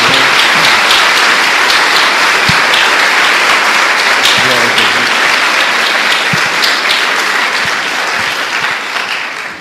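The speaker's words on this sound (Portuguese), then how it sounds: "Dê uma salva de palmas a Jesus." A church congregation applauds in a dense, sustained wash of clapping that stays loud for nearly ten seconds and fades slightly at the end, with some voices mixed in.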